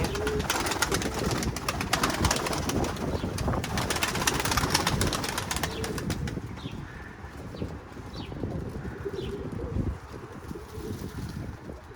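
Pigeons coo on a wall during a storm, their calls faint beneath heavy roaring wind buffeting the microphone, the gusts easing somewhat toward the end.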